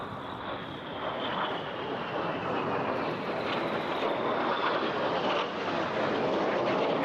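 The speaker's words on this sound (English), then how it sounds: "look directly to your left, look directly to your right as the synchro pair run back in with the smoke behind them running" Synchro pair display jets running in with smoke trailing at the Eastbourne International Airshow, making a steady, loud roar that holds for several seconds over wind buffeting the microphone.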